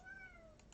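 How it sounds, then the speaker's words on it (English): A pet cat gives one short, rising-and-falling meow, faint and a little distant in an otherwise quiet indoor room. "That you hear is my cat."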